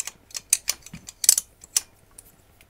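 A torque wrench clicks while tightening the cylinder head bolts on a Honda XL250 motorcycle with a big bore kit: a series of sharp, close, irregular ratcheting clicks, some louder than others, then fading.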